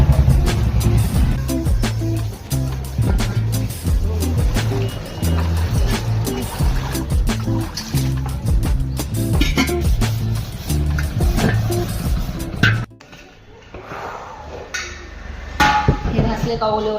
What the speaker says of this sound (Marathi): भांडे घासायचे.